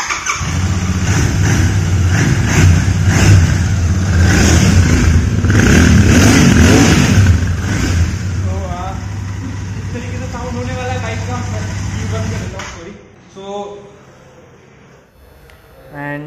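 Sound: Royal Enfield Continental GT 650 motorcycle engine revving and idling

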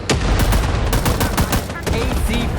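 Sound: gunfire in video game Rising Storm 2 Vietnam

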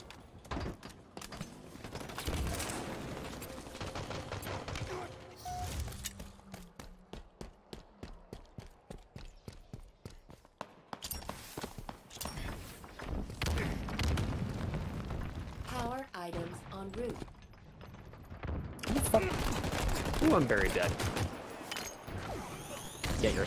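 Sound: gunfire from a gun in Halo Infinite video game

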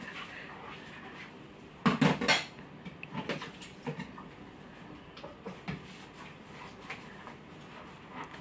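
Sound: washing dishes, clattering plates and cutlery

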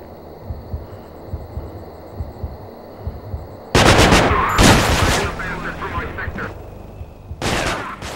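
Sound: assault rifle gunfire in video game Manhunt

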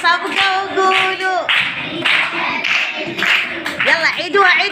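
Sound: people clapping at a birthday celebration

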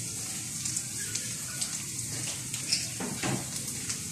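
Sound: garlic and onion frying in cooking oil in a pan

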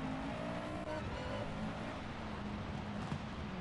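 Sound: rival car, Subaru BRZ or Toyota, from video game Gran Turismo Sport

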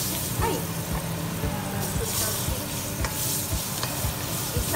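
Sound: onions being sautéed in oil

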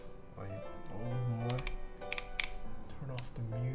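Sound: typing on an Epomaker NT68 keyboard

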